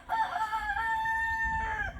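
Red hen in a chicken coop giving a single drawn-out, tonal call lasting about two seconds, close and clear with no talk.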